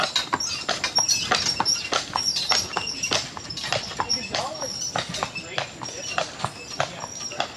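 Horses walk at Disney's Circle D Ranch, their hooves clip-clopping in a steady stream of sharp, close knocks with a busy outdoor background.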